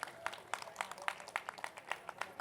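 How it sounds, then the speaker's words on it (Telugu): An audience at a spiritual gathering for East Godavari masters claps in a brief, fairly faint burst of steady, evenly spaced hand claps. "ఒకసారి మా తూర్పుగోదావరి మాస్టర్లు అందరికీ గట్టిగా క్లాప్స్ కొట్టుకుందాం."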